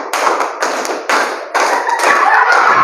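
Group clapping in a concentration game, sharp percussive claps arriving in a short series of distinct bursts, loud and close with no talk over them.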